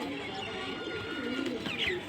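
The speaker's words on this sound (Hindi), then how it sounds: "ये हमारी गर्रन कबूतरी है, बॉर्डर पार वाली" A garran pigeon, a female racing bird, coos softly and steadily at close range, with faint chirps from other birds in the background.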